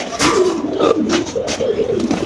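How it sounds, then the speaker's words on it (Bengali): A single female Mumbai breed pigeon coos in a loud, close series of throaty rolling notes, repeated in quick succession without pause. "সিঙ্গেল একটা মুম্বাই মাদি কবুতর"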